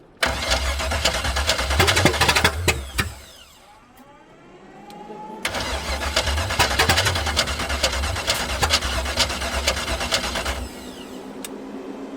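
A Chevy 350 V8 installed on a street cranks hard in two long bursts, catching and running roughly for a few seconds each time, with a quieter pause between them and a low idle-like rumble afterward.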